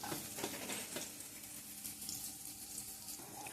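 Carrots and green chili fry in butter in a pan, giving a soft, steady sizzle that stays faint and continuous throughout.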